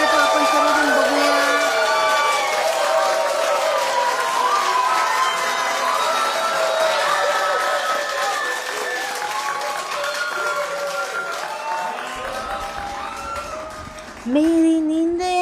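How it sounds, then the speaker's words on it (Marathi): Loud, continuous applause and cheering from a crowd at a college fresher party dance performance, with voices and music running through it and a sharp rise near the end. "पायलसाठी सर्वांनी जोरदार टाळ्या वाजवा"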